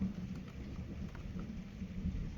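A thunderstorm outside brings steady rain with low, rolling rumbles of thunder, heard faintly as a continuous wash of noise with no voices.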